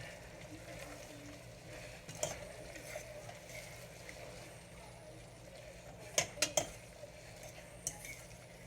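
Chilli being stirred in a cooking pot, heard as a few quiet clinks and scrapes of a utensil against the pot, including a quick cluster of three, in an otherwise hushed kitchen.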